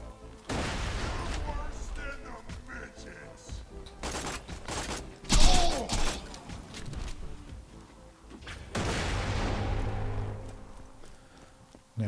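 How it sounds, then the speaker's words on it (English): A grenade exploding in Borderlands 2 at Digistruct Peak: a sudden loud blast among bursts of gunfire and clattering combat noise, with a voice speaking briefly. "Grenade."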